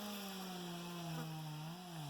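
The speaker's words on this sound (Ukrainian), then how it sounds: "Якась пилка десь щось ріже." A saw cuts steadily somewhere in the distance, a droning motor tone that wavers slightly in pitch, continuous throughout outdoors in a forest area.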